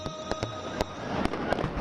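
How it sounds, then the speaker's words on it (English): Fireworks crackle and bang in a rapid, irregular volley during a Guru Nanak Jayanti celebration, loud sharp bursts over a continuous fizzing roar. "a spectacular fireworks display lit up the sky, filling the air with joy and devotion."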